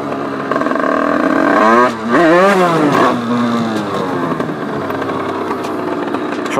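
An 80cc two-stroke motorcycle engine screams as the throttle is twisted, rising and falling in pitch with a brief dip before revving hard again, then settling into a loud, steady drone close by.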